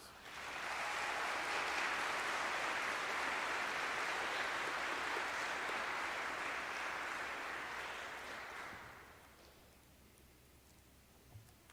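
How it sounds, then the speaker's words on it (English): Sustained applause from a large graduation audience at a law school ceremony for parents and families, a broad even wash of clapping heard from a distance that fades out after about nine seconds into quiet room tone. "So I invite you now to give them a great big round of applause"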